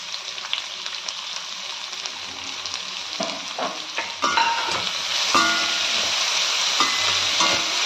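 Sliced onions and chillies sizzle and crackle in hot oil in a pan, a steady frying hiss that grows louder midway as the onions go in, with occasional stirring scrapes.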